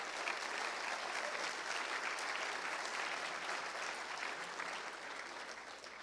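An audience at a 1 Million Cups entrepreneur gathering in Springfield breaks into steady, dense applause that holds strong for several seconds and fades only slightly toward the end.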